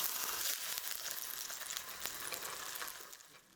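Tofu sizzles and fries in a hot pan, a steady crackling hiss with small pops running throughout at moderate, close volume, fading slightly near the end.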